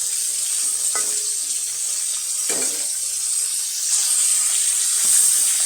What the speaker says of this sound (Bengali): খুব বেশি ভাজবো না, এটা হালকা ভাজার মধ্যে দিব, যেহেতু লাউ দিয়ে রান্না করব।